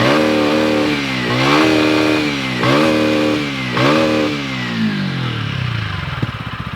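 A motorcycle engine revs up several times in quick repeated bursts, rising and falling in pitch, then settles toward a lumpy idle, loud and close.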